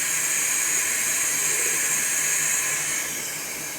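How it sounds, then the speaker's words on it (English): Warm water filling a spray reservoir for a glue mix, a steady close hiss and rush that tapers slightly toward the end. "now we are going to fill it up with the warm water."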